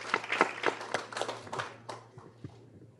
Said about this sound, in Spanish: Le pido un aplauso para Luciano,